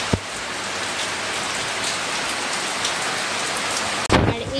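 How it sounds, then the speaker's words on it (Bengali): Heavy rain pours down steadily in a continuous dense hiss, with a sharp clatter near the start and a louder close knock toward the end. "কি বৃষ্টি কি বৃষ্টি।"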